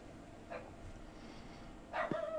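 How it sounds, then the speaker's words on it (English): A puppy indoors gives two short, high yipping barks a moment apart, fairly faint against a steady background hum. "Is that a rooster in your house? no, that's our puppy."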